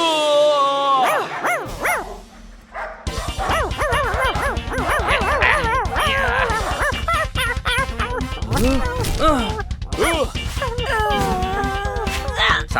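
Cartoon dog in a Hindi animated adventure barking and yipping in short bursts amid loud background music and sound effects, with voices of other characters around it.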